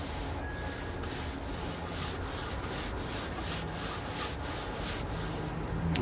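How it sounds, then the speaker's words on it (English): A towel rubbing wax into a bonsai's wooden surface, a steady close-up scrubbing with rhythmic strokes continuing alone throughout. "I'm going to rub it with the towel."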